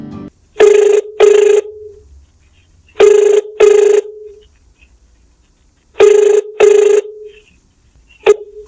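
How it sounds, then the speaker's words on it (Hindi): An outgoing phone call rings back in three loud paired bursts, each pair of electronic rings followed by a silent gap, with the start of another ring at the end. "फ़ोन की घंटी बजने लगी"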